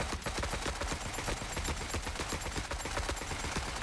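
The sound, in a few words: turrets firing in video game Forever Winter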